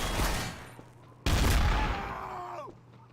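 Gunfire in Garry's Mod Trouble in Terrorist Town: a loud burst of shots opens, then a sharp second volley cracks out and rings off, followed by a descending tonal whine fading away.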